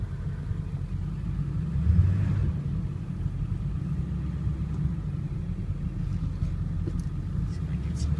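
A 1999 Ford F350 diesel truck driving, heard from inside the cab as a steady low engine rumble with road noise, rising briefly early on.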